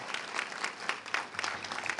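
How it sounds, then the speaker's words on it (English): A crowd at an awards celebration applauds steadily, a dense wash of clapping that stays even throughout, somewhat distant and moderately loud. "Please join me in a round of applause"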